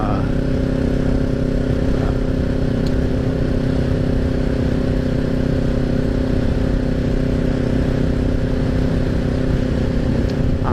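A Kawasaki Ninja 400 engine drones steadily while being ridden, an even, loud mid-pitched hum with wind noise and no pauses throughout.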